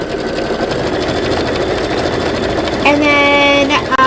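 An embroidery sewing machine stitching the iron cord placement line for a Kimberbell design, a fast steady mechanical whir up close, with a brief rising electronic beep near the end.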